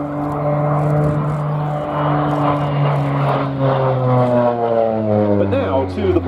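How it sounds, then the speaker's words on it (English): An OV-10 Bronco twin turboprop, twin-boom aircraft maneuvering at an airshow, its engine drone rising and shifting in pitch, loud and fairly near, with a commentator talking over it. "there aren't many twin turboprop, twin boom aeroplanes capable of manoeuvrability like that"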